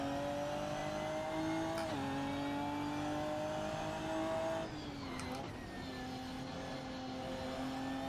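A race car in a racing video game drives and revs, its engine holding a loud, continuous droning whine that dips and climbs as it shifts through corners.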